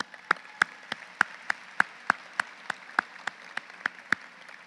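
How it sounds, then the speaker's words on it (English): Graduation ceremony audience giving a round of applause, heard here as sharp, evenly spaced claps about three per second, fairly distant in a large hall. "Let's give them a round of applause."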